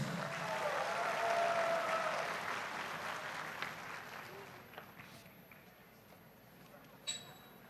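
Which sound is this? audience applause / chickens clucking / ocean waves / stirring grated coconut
audience applause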